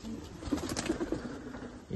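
Pigeons in a crowded home loft coo softly several times over a steady low background, fairly close but faint.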